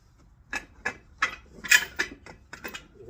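A heavy Harbor Freight jack stand is threaded up or down, giving a string of about eight distinct metallic ratcheting clicks at an uneven, deliberate pace, close up against a quiet background.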